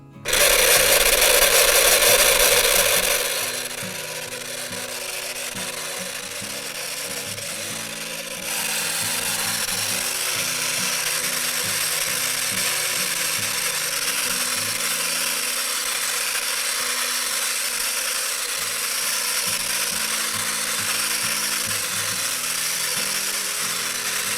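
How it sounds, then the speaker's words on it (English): An electric mixer whips powdered sugar into vegan frosting, a steady loud whirring drone that runs continuously, louder at first and then settling into a constant hum, with no talking. "we'll start whipping in our powdered sugar"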